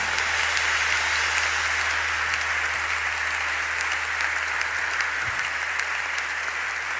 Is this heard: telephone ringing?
no